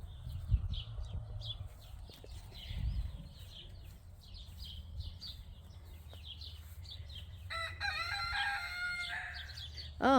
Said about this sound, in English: I'll tell you in the next video about my rooster Leroy Brown.